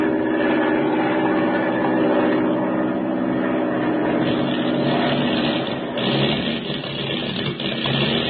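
A propeller plane's engine with motor trouble drones steadily over the ocean and then falters, its roar dipping and sputtering unevenly near the end.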